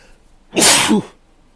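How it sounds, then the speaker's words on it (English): A single loud sneeze, sharp and close, with a quick breathy burst and nothing else around it. "Had a sneeze coming up."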